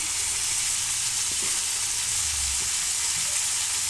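Vegetables stir-frying with ginger garlic paste, salt and chili powder in a home kitchen, giving a steady, close sizzle and hiss throughout with faint stirring scrapes underneath.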